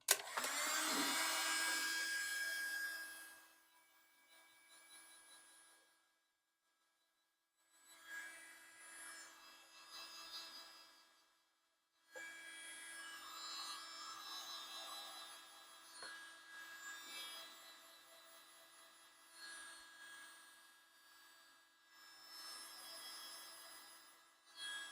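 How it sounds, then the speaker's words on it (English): A small hobby heat gun blows on a pipe stem in bursts, a hissing airy rush that starts strong then cuts in and out with short silent gaps, close and fairly quiet. "This is just a little hobby heat gun."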